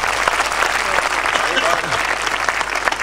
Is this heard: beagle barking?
no